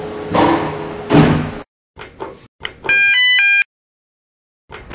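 Lift doors in a Roblox game slide open with a loud whoosh, followed by a couple of softer clunks and a sustained electronic chime tone before silence, with no talking.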